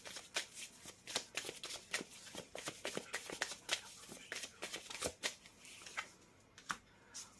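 Tarot cards shuffled by hand in a dense run of crisp riffling flicks and slaps that come in quick irregular bursts, close and fairly loud, with no talk over them.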